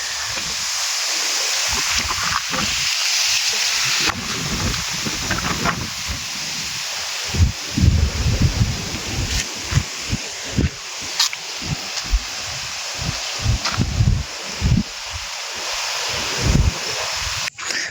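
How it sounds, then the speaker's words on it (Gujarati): A night windstorm pushes a continuous roar of wind and rustling leaves, broken by gusty low buffeting against the microphone that swells and drops repeatedly toward the end. "એકદમ વાવાઝોડું એવું ચાલુ થઈ ગયું રાતે।"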